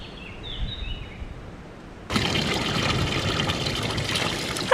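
Cold mountain stream water flowing, a steady broadband rush that starts abruptly partway through and stays loud and close to the end, after a quieter stretch with faint chirps.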